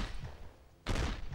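A single loud gunshot fired at an enemy's arm in the video game 24, a sharp broadband blast bursting in near the end after a quieter stretch of game ambience.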